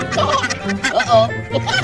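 A farmyard duck calls loudly and close by in a quick run of harsh, squawking quacks over about two seconds.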